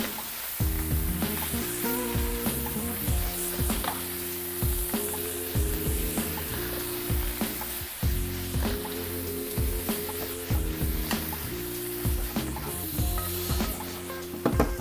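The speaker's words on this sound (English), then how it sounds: "I'm gonna get our veggies going here again too." Vegetables stir-frying in a pan for veggie noodles, a steady close sizzle with repeated scraping and tossing knocks from stirring, heard under soft background music and without talking.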